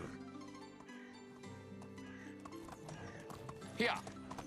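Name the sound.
horse hooves clip-clopping in video game Medieval Dynasty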